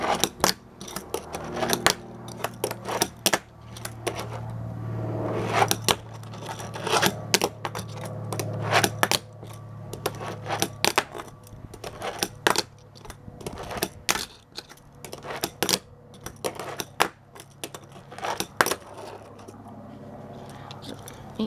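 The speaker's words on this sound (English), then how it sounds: "I'll try to do a kickflip without the grip tape on it." A Tech Deck fingerboard without grip tape clacks and taps in scattered sharp clicks as kickflips and ollies are tried on it. The close, irregular hits are spread throughout, with faint murmuring in the background.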